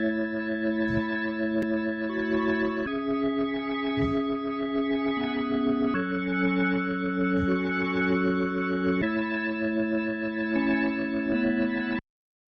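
Sustained reggae organ chords from a Caribbean organ preset, with steady rhythmic stabs and chord changes every couple of seconds, a full warm tone with effects, playing alone and stopping abruptly.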